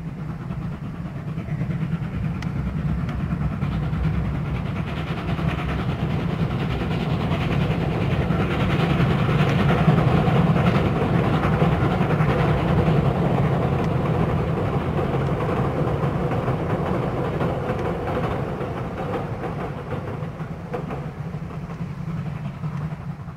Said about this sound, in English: After servicing, the train continues towards Maclear.